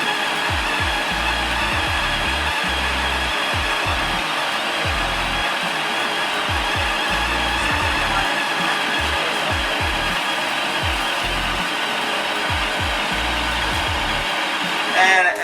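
A power drill drives a grain mill crushing malt for homebrewing a pumpkin ale, held to a slow speed, giving a steady close whirring drone with a rhythmic grinding pulse throughout and no talk.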